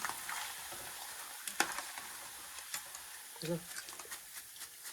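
Quiet sizzling of poha frying in oil for masala chevda, a soft continuous crackle with a few clicks and faint voices in the background.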